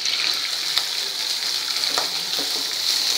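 Onion being fried with okra and chilies in a pan for a Maharashtrian bhendi bhaji, giving a steady close sizzle with a few light stirring scrapes and no talk.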